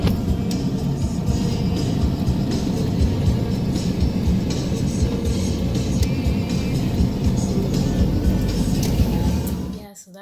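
Steady road rumble of a car heard from inside the cabin while driving around Nagoya, Japan, a continuous loud hum with faint background voices, cutting off abruptly at the end.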